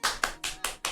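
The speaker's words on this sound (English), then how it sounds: "give yourselves a round of applause, ladies and gentlemen" A room of people claps in a quick, lively round of applause: five sharp bursts in under a second, close and fairly loud, with no talk over it.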